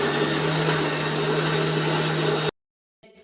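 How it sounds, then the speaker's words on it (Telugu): A mixer grinder runs at a steady loud whine and roar, grinding leftover rice batter for papads, then cuts off abruptly into near silence. "మెత్తగా అయితే మిక్సీ పట్టేసుకోవాలండి"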